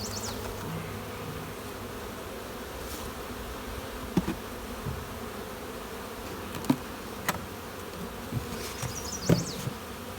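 A honey bee colony buzzes steadily in its hive, a dense continuous drone close by, with a few faint clicks and knocks from handling the boxes scattered through it.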